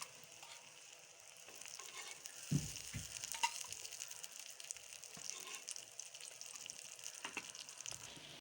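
A paratha fries in ghee on a hot pan, giving a faint, steady sizzle with a few soft stirring or scraping touches and light crackles throughout.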